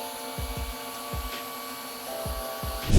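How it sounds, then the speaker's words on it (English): A Dreame M12 wet and dry cordless vacuum runs its roller-brush self-cleaning cycle, with a steady motor whine and a series of low, regular thumps, swelling louder at the very end. "there is a percentage progress here to let you know how much percent that it has cleaned the roller brush"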